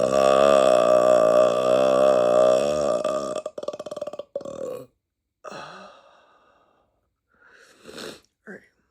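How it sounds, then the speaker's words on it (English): A man lets out a long, loud, drawn-out burp with a gurgling, vibrating tone, followed by a few shorter, breathier belches and grunts at close range during a mukbang eating session. "Hold on, I think I got a burp again."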